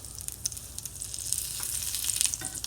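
Burgers frying in a hot pan, a steady close sizzle with crackling pops that swells slightly as the patties are turned, no voices.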